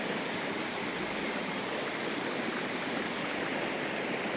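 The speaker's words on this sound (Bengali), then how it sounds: "যাই হোক জলের বেগটা আবার দেখিয়ে দিই" A fast-flowing hill river rushes in the pre-monsoon season, a steady, dense broadband roar of churning water that holds constant and close throughout with no voices.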